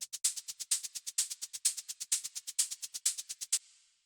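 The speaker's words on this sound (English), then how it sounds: "So the next thing that we have here is these hi-hats" Synthesized hi-hats made with Operator for a dark melodic techno track, a fast, steady run of bright, crisp ticks with an accented pattern, ending in a short decaying tail, alone.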